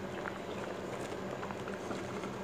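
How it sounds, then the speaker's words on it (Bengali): Half-boiled dal simmering as drumsticks are added, a faint steady bubbling and gentle liquid churn with soft irregular pops, close and quiet, with no voices. "আমি ধীরে ধীরে সাজনাগুলো অ্যাড করে দিচ্ছি।"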